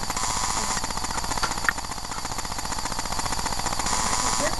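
A power tool drives a bolt back into place with a loud, continuous, rapid rattling hammering that runs without pause, close by and with no talking.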